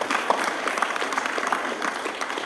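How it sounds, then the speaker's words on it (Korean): Audience applause at a 2022 science and technology entrepreneurship camp after seven startups pitched, a steady patter of many hands clapping at moderate distance, fairly quiet and continuous throughout. "한번 박수 한번 보내주세요"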